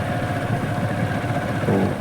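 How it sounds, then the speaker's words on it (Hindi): A motorcycle rolls slowly along a fog-covered road near Greater Noida, its engine a steady, close, mid-pitched putter with no talking. "मैं तो बाइक से चल रहा हूँ"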